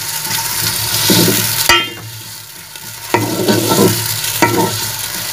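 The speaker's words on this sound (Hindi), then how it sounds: "मैं इसमें ऑयल गर्म हो चुका है और अब मैं इसमें प्याज डालूंगी।" Onions drop into hot oil and fry with a loud, continuous sizzle, broken by a few stirring scrapes and a brief dip when the pan is moved, with no talking.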